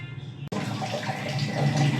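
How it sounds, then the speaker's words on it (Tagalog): Water runs steadily from a tap after a short click, splashing as saba bananas are washed in a sink, close and moderately loud. "Tayo po'y maghuhugas ng saba, tapos lalagain daw po ito."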